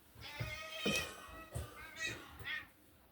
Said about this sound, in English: As I'm sure you heard in the background, I literally had to separate 2 of my cats.